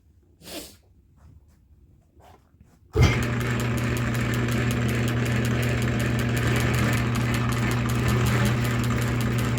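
A metal lathe running slowly in back gear while turning a large cylinder starts up abruptly after a few quiet seconds of faint sounds, then holds a steady, loud mechanical hum with a low drone and a fine repeating ticking.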